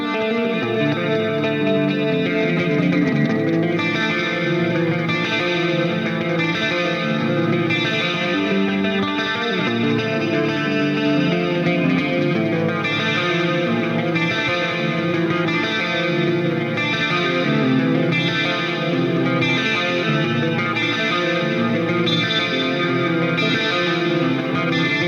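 Clean electric guitar played on the neck-position EMG 66 pickup of a Floyd Rose-equipped guitar with a Stone Tone sustain block, heard up close as sustained chords and arpeggios with chorus-like shimmer, steady and alone.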